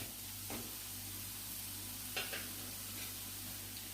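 Onions sautéing in a pan for a bachelor-style egg curry, a soft steady sizzle with a few brief scraping stirs of a spoon, faint and close.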